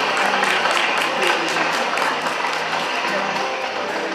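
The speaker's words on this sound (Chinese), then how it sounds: "大家再次掌声献给杨先生" A crowd applauds Mr. Yang at an illusionist's magic show during a company's 50th anniversary celebration, with dense, even clapping filling the room at steady volume throughout.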